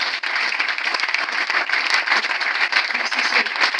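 A church congregation at a Sunday service breaks into loud, sustained applause, dense overlapping clapping filling the room evenly throughout.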